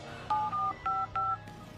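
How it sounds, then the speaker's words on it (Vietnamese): A telephone being dialed gives four crisp touch-tone beeps in an uneven rhythm, each a short steady dual tone, clear and close over a low background hum, with no speech. "Tôi đã cố gọi cho bạn tôi."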